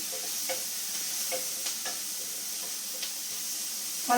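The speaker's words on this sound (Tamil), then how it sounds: "வெங்காயம் நன்கு வதங்க வேண்டும்" Onions softening in a pan for a mango curry, a quiet steady sizzle with a few light stirring taps and a brief louder clatter at the very end, no talk.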